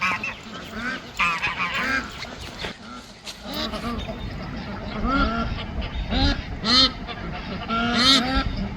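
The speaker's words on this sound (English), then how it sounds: "Mumbles, Mumbles, my goosey goosey" Goose honking on a homestead near a pond: repeated loud, close honks in irregular bursts, overlapping with softer duck-like calls throughout.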